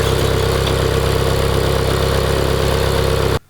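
Ferrari F430 engine idling with the hood open, a steady, loud, even mechanical hum that runs unbroken before cutting off abruptly at the end.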